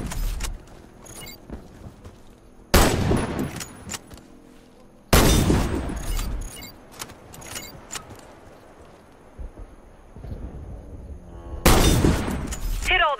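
A sniper rifle fires at targets in the shooter game WarFace: three loud, booming shots, widely spaced, each trailing off in a long echoing decay, with quieter clicks and handling noises between them.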